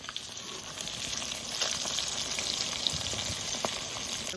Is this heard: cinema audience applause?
no